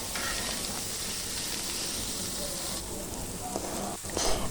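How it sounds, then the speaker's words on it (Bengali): An egg cracked into hot oil for fried rice made from leftover rice gives a loud, dense, continuous sizzle and hiss close by, swelling slightly at the end. "তেলের মধ্যে এখন একটা ডিম দিয়ে দিচ্ছি"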